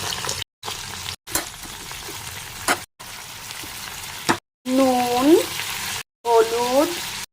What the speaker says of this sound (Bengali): সবজিগুলো প্রথমে আলু কপি এগুলো ভালো করে ভেজে নেব